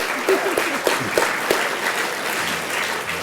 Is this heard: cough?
no